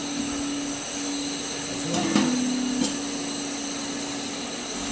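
A Blastrac shot blasting machine prepares a concrete floor before epoxy resin, firing steel shot in a steady, continuous mechanical roar with a constant whine and a brief clatter midway.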